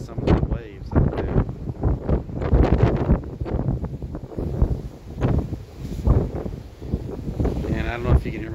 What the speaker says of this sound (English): you can also tell just how windy it is.